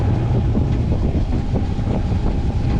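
Steady wind at sea aboard an Island Packet 370 sailboat, a loud continuous roar and rumble with microphone buffeting throughout, no talk.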